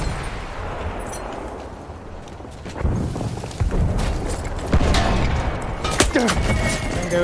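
Gunfire aimed at a truck in the video game Battlefield 1, with booming shots and explosive bursts of varied loudness against a rumbling battle background, a few louder blasts toward the end.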